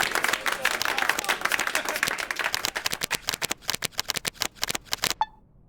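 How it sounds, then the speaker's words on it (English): Cards being shuffled in the video game ATOM RPG: Trudograd, a dense riffling flutter that breaks into a rapid run of sharp, distinct card snaps before stopping cleanly. "Zakharov shrugs and begins shuffling the cards."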